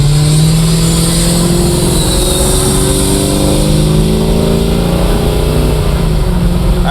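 A 1965 Chevrolet Malibu Pro-Touring accelerates hard, its engine note climbing steadily through the gears. It is loud and close, with continuous wind and road roar and no talking.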